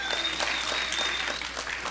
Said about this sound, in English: All right, give Amir a big round of applause, ladies and gentlemen.